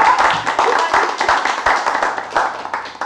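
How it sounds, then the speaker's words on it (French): An audience claps for couples being introduced at a church gathering, a steady patter of hand claps lasting a few seconds with voices mixed in. "Acclamons pour eux."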